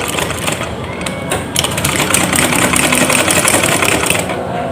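A sewing machine runs steadily while stitching kebaya kutu baru fabric, its fast, close mechanical rattle continuous throughout with a slight change in pace partway through.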